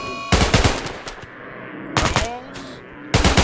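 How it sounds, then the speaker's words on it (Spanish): Rapid bursts of gunfire ring out in the RimWorld colony-building game: three loud clusters of quick shots separated by short pauses, fairly close and clear, with no talk over them. "Los que puedan disparar, pues que disparen."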